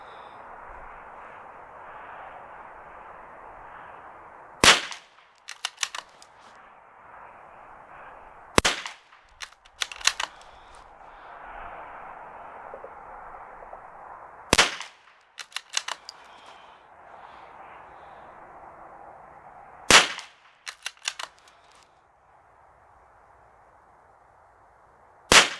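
Mk II pistol fired at a range in groups, sharp single loud cracks spaced several seconds apart, each followed by a few quick clinks or rattles, over a steady faint background hum, no voices.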